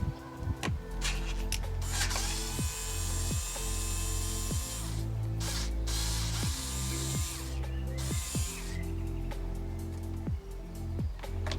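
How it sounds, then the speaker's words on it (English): Electric screwdriver fitted with a Torx bit, roughly a T20, backing screws out of the airbox on a Ford Fiesta Zetec S: a steady run of repeated ratcheting clicks at close range, with a faint motor whir underneath and no talking. "So electric screwdriver for the win."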